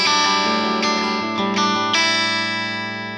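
A clean electric guitar through a UA Ruby '63 Top Boost amp rings out loudly: a few sustained chords struck in sequence, full and bright, fading slowly at the end.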